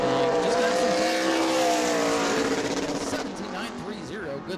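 A super late model race car on a qualifying lap at New Smyrna, its loud engine wailing through rising and falling revs as it rounds turns three and four and then fades slightly, with announcer commentary over it.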